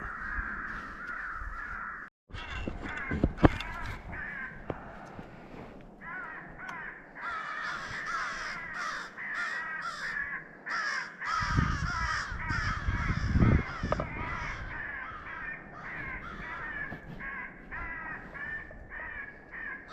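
Harsh crow caws from an electronic caller playing a crow fight call, repeated in rapid overlapping bursts like a squabbling flock, loud and continuous with a few sharp knocks, during a crow hunt.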